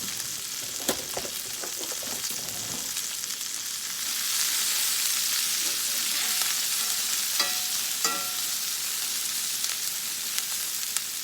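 Onions cook in a hot pan for mushroom and onion smothered steak, with a loud, steady, hissing sizzle that swells midway and a few sharp stirring clicks early on.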